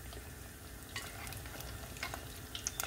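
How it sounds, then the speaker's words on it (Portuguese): Tuna cakes frying in hot oil in a home kitchen, a steady low sizzle running throughout with a few brighter crackles and pops near the end, no voices. "Então, aqui agora é só fritar os bolinhos."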